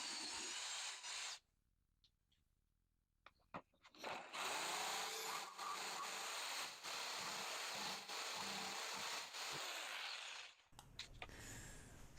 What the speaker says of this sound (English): bore a hole and then cut it out with the jigsaw